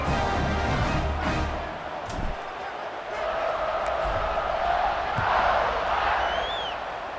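A packed college football stadium crowd at a Notre Dame senior-night game roars at kickoff, a broad, loud, continuous wash of cheering and yelling with brief swells and thuds.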